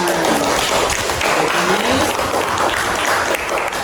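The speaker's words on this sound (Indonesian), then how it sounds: "Oke, beri tepuk tangan." A classroom of students claps together, a dense, loud burst of applause that carries on steadily for several seconds with some voices mixed in.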